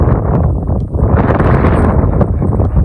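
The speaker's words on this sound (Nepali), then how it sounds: "अब चाहिँ लास्टै हावा चलिरहेको छ" Loud, continuous wind roar buffeting the microphone, rumbling and gusting without a break, on the way to Kagbeni in Upper Mustang, Nepal.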